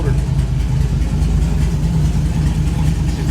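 A 6-liter car engine that has been sitting a long time idles close by with a steady, low rumbling throb and no revving, while people talk over it.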